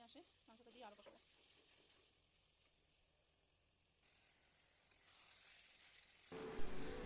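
Spice paste for biryani frying in a pan, a soft, steady sizzle heard close, with a few faint scrapes and a brief bump partway through.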